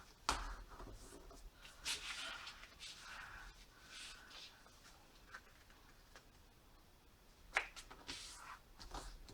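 A tool scoring a line into 12 x 12 paper for a no-cut gift box, faint close scratching and tapping strokes in uneven bursts, with a couple of sharper ticks, no talking.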